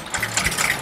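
A wooden boat's engine chugs on a canal at a Thai floating market, a rapid mechanical rattle and hum running close by with slight surges in level.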